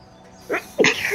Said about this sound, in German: Manchmal muss man halt so niesen.